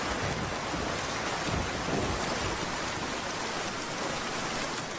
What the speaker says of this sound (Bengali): বাইরের বৃষ্টি না দেখে আগে দেখ ঘরের কোথায় কোথায় বৃষ্টির পানি পড়ছে।